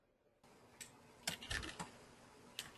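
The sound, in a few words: typing on a computer keyboard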